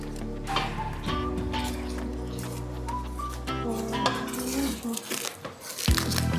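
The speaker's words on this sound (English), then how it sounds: "You see why you need to be stirring?" Metal spoon scraping and clinking against a pot while Ghanaian palava sauce is stirred, a steady run of light knocks over a continuous tonal background hum.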